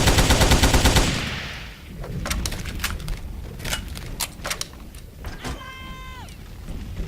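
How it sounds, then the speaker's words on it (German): Rapid bursts of automatic gunfire in the shooter game Übersoldier 2, set in the ruins of Berlin, a loud dense stream opening the clip, then scattered single shots and a mechanical whirr, with faint talk underneath. "Lass mich da schießen."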